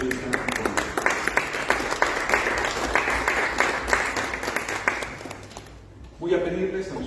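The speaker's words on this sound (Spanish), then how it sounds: "démosle un aplauso a nuestros tres compañeros que hoy están aquí con nosotros." A seated audience at a magazine issue launch gives a long, steady round of applause, dense clapping that fades out near the end before a voice resumes.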